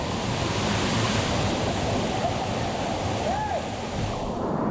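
A steady, dense roar of Looking Glass Falls waterfall fills the whole clip, continuous and close, with no pauses.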